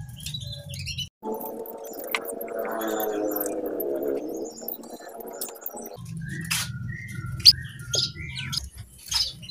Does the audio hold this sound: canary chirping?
yes